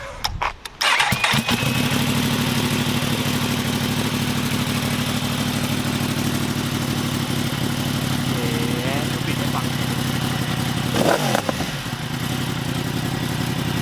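A Yamaha R1M sport motorcycle fires up with a sharp starter crank, then settles into a loud, steady exhaust idle close by, with a couple of quick throttle blips near the end.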